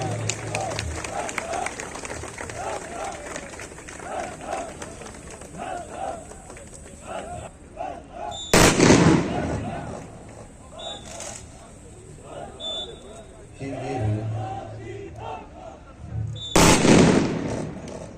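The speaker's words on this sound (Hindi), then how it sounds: "आपके सामने ये तरबियत याफ्ता जवान राइफल SMG के साथ मुख्तलिफ पोजीशन में फायर करते हुए नजर आ गए" Trained police recruits firing rifles and submachine guns at a passing-out parade in Rawalpindi, two sharp loud gunshot bursts standing out over a busy background of crowd noise and a voice commentating.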